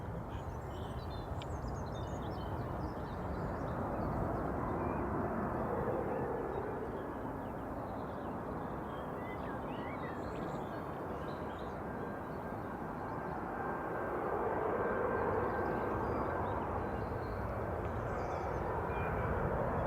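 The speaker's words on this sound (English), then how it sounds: "that's GUZHD just rolling out now" At Manchester Airport, an easyJet jet airliner rolls out on the runway, producing a steady, distant engine roar that swells slightly and holds throughout with no other sounds.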